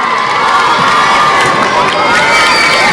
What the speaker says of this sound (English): hear the crowd this time a little bit distracted because they're looking at a game that's on an adjacent court